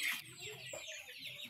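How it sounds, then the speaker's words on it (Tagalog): Chickens cluck softly, faint and a little distant, in short bursts over quiet outdoor background noise. "daghan po sila yung manok diri oh"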